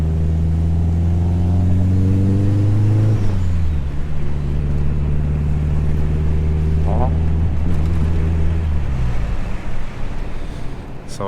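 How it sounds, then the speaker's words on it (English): Misfiring 3.2 VR6 engine in a swapped two-door Mk4 on a dyno, droning loudly with a falling rev at first, then holding a rough steady tone with uneven stumbles and a brief blip near the end. "This thing is misfiring."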